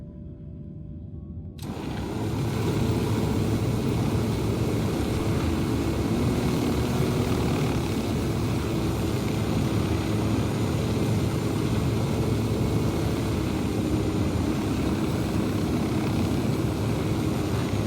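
Drone hovering in Ghost Recon Wildlands on extreme mode: a steady, loud propeller drone that starts abruptly after a short quiet lead-in and holds a constant buzzing whine throughout, with no one talking.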